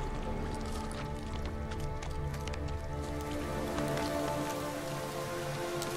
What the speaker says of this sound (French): C'est dommage qu'il pleut là.